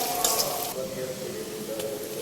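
Cinnamon, cardamom and bay leaf crackle in freshly added hot oil, a bright close sizzle that is strongest at first and then settles to a softer continuous fry, with a faint utensil tap.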